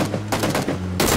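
The dinner plate gun in PUBG on Xbox One fires rapid gunshots, with four or five heavy, close reports ringing over a constant low hum in just over a second, and no talk heard.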